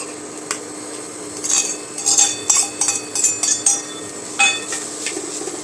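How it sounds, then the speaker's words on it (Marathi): A metal spoon stirs jaggery into grated coconut for a sweet filling in a pan, making repeated clinks and scrapes in uneven bursts over a soft background sizzle, with no talking. "आणि याच्यामध्येच आपण आता हा गुळ घालणार आहोत"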